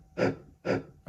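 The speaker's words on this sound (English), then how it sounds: "Then I added this effect, just like breathing effect." Breathing sample from Kanye West's "Black Skinhead" placed in a hip-hop beat: two heavy, rhythmic breaths, loud and close, each a short rushing gasp with a pause between.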